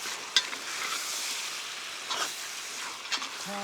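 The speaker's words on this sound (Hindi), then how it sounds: "अब सबको मिला देते हैं और 3 से 4 मिनट भूनते हैं" Garam masala, Kashmiri chili and other spices fry in a Dutch oven for a Himachali pahadi chicken curry. A steady close sizzle runs throughout, broken by a few sharp metal spoon clacks and stirring scrapes.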